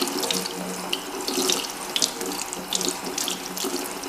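A tap runs steadily into a sink while makeup brushes are rinsed, a soft continuous splash with brief brighter bursts as the bristles are swirled under the stream.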